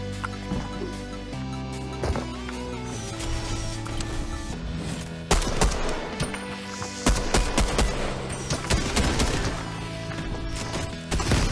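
Rapid gunfire in the video game Fortnite, with bursts of automatic shots and sharp single cracks over game music, louder volleys clustering in the second half.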